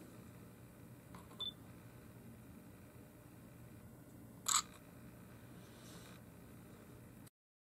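A faint click, then a sharper mechanical shutter snap from a Nikon Coolpix P610 digital camera stands out over a steady low hum; no voices.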